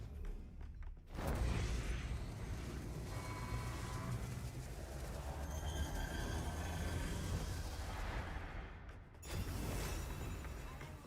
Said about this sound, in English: One last explosion.